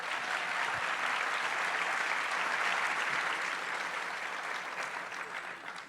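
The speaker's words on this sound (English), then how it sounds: "I think that deserves a little applause" A live audience applauds steadily at a political event featuring Gavin Newsom, with dense, even clapping that holds for several seconds and tapers slightly at the end; no one speaks over it.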